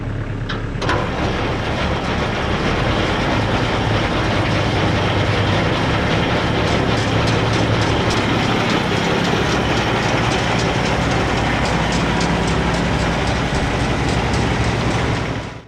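A three-point PTO snowblower mounted on a tractor runs with a loose part, giving a loud, steady mechanical roar with rapid rattling vibration that carries evenly throughout with no voices.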